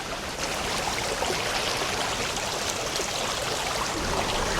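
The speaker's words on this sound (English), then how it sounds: "And we have a river crossing." A river crossing on a New Zealand hiking trail, where flowing water rushes in a steady, close, full hiss that stays even throughout with no voices.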